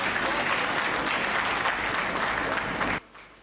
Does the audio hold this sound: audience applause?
yes